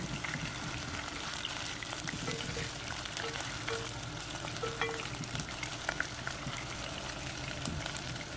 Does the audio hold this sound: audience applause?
no